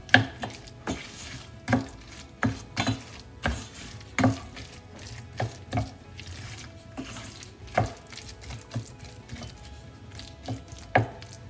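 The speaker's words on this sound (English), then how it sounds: "Mix this well." A spoon stirs sweet potato payasam with soaked tapioca in a pot, making a close series of irregular scraping taps and clinks against the metal, with no voices.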